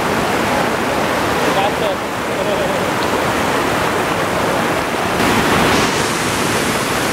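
Waterfall spilling into a natural rock pool on Siquijor Island, a steady broadband rush of falling water filling the whole stretch, with a voice briefly speaking over it.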